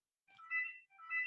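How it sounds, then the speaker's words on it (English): A mobile phone rings with a short electronic ringtone, two bursts of warbling tones, fairly quiet and alone in an otherwise silent room. "that's my phone kicking off."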